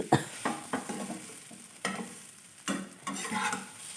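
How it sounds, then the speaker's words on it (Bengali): A roasted spice mix is stirred and fried in a pan for a vegetarian cauliflower dish, with soft, intermittent scraping strokes over a faint sizzle, close and quiet. "আমি এখানে ওই ভাজা মশলাটা দিয়ে দিলাম দিয়ে বেশ ভালো করে আবারও নেড়ে তুলে ভেজে নিচ্ছি একটু"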